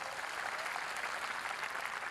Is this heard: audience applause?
yes